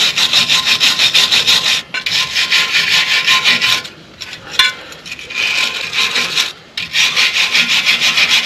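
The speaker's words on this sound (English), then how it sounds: "let me go grab a wire brush. I'm just going to clean up where the brake pad's riding the caliper." A wire brush scrubs the brake caliper where the pad rides on a 1977 Ford F150, loud harsh rasping strokes in bursts separated by short pauses, with no talk.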